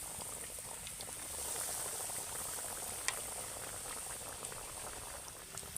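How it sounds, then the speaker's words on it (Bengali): Two egg cutlets fry in very hot oil, giving a dense, even bubbling and crackling that stays quiet and steady, with a brief sharper pop midway. "এবার আমি একে একে কাটলেটগুলোকে ভেজে নেব।"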